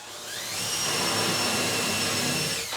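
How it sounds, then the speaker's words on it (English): A 7/16 inch brad point drill boring into a wooden mirror frame, one continuous high whine that ramps up and holds steady for a few seconds close by before cutting off. "I'm going to drill the hole first with this."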